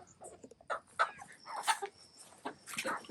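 Several puppies whimper and yip in short, overlapping bursts, fairly close, with high squeaky cries throughout.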